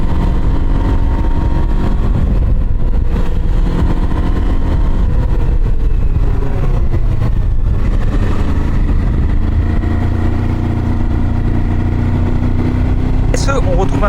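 A Kawasaki KLE 500 SE motorcycle engine drones steadily while being ridden, a loud continuous rumble with wind noise that runs through the whole stretch.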